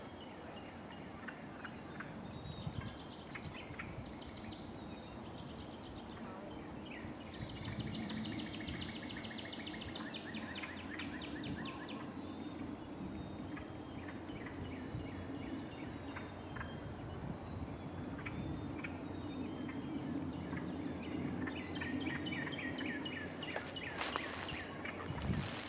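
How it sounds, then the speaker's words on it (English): Ducks call outdoors, out of sight, in short repeated bursts of quacking and chatter that sound fairly distant. The calls come and go over a constant outdoor background rumble. "There's some ducks out there. Can't really see them, but I can hear them."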